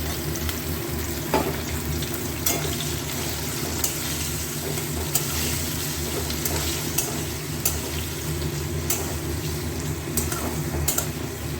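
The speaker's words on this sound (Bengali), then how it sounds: "আলুগুলো বেশ ভালো ভাজা হয়ে গেছে, এবার এর মধ্যেই ছেড়ে দেবো পেঁয়াজ।" Salted potatoes and onions frying together in a pan, giving a steady close sizzle throughout with occasional sharp clicks and scrapes from stirring.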